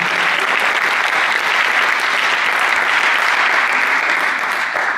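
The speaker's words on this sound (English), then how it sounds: "Give them a big round of applause for your music." Steady, dense applause from a crowd of students at a high school post-prom hypnosis show, continuous clapping at an even level throughout with no talking over it.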